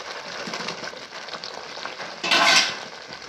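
A spoon stirs potato and pointed gourd curry in its simmering gravy in a pan, giving close, continuous scraping and clinking with a soft sizzle, and a louder scrape near the end.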